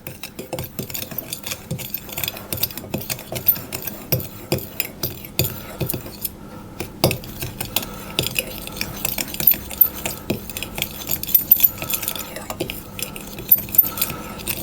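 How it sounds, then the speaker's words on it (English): A spoon stirring a dessert mixture for copper pot cake, giving repeated light scrapes and clinks against the bowl in an uneven rhythm, close and moderately loud. "I'm going to stir that and mix that in a little bit"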